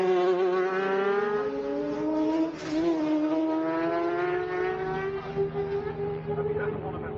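Superbike race leader at the North West 200 road race, a loud high-revving engine wailing continuously as it rounds past and climbs through the gears, with a commentator speaking over it.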